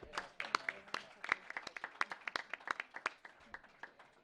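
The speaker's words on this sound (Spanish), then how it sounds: "Y les pediría que le diéramos un aplauso de bienvenida." Welcoming applause at a public education committee session, scattered individual claps from a small group, quite faint and uneven, with some speech-like sounds in the background.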